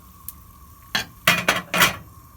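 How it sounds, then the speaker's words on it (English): Potatoes go into a boiling pot of soup with cannellini beans, thyme and rosemary, heard as three quick clattering, splashing bursts against the pot after a faint earlier tap, with a low background hum and no talking. "Okay, things are boiling, so I'm going to add the potatoes."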